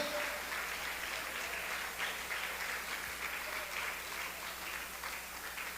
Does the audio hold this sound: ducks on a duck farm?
no